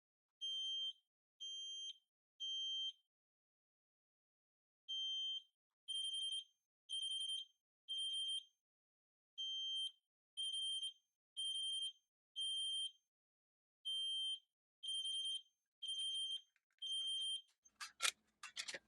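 Interconnected smoke detectors sounding during a test, giving loud, shrill beeps in regular bursts of three with short pauses, and the overlapping alarms turning into a harsh, continuous clamor at the very end.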